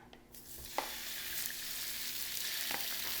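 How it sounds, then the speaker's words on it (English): Sausages sizzle steadily in oil in a hot frying pan, a close, crackling hiss with a few sharper pops and scraping stirs from a wooden spoon. "A nice little sizzle."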